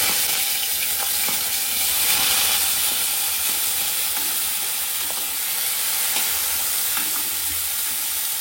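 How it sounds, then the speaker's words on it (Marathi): Tomatoes added after onions sizzle and fry in a pan, a bright continuous hiss with occasional stirring scrapes, close and steady with no voices. "कांद्यानंतर आता मी टाकते टोमॅटो."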